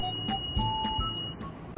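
A buzzer on a temperature-sensor baby monitor project sounds a steady, thin, high-pitched electronic tone for over a second, with a few short extra beeps, fairly quiet and alone over a faint background hum.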